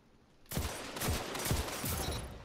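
Rapid, punchy shotgun blasts from the video game Destiny 2 fire in a quick, loud run, several close booming shots over a dense background of game noise.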